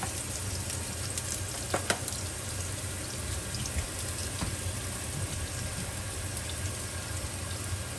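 Ginger frying in a pan for a Filipino-style chicken curry gives a steady, close sizzle that runs unbroken throughout, with a couple of faint clinks near the start.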